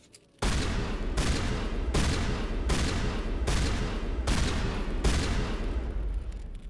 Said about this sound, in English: Shotgun is pretty decent fire rate, a very uniform spread.